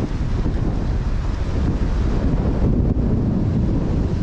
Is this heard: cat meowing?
no